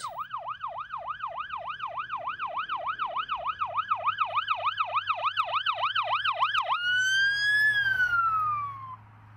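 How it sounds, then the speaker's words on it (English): An emergency vehicle siren wails in a fast, regular yelp cycle, then switches to a slower, drawn-out rising and falling tone, loud and close over low road rumble. "the emergency vehicle's lights and sirens may be turned back on"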